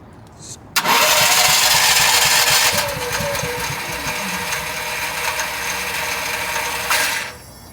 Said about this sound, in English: Start the generator.